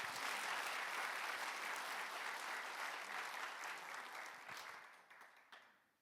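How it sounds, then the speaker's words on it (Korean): A congregation at a church gathering welcomes a speaker with a full round of applause: sustained, dense clapping that stays even, then tapers off into scattered final claps. "박수로 맞이해 주시기 바랍니다."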